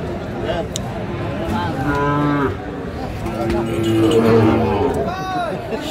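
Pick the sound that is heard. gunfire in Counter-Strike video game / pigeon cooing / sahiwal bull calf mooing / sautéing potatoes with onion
sahiwal bull calf mooing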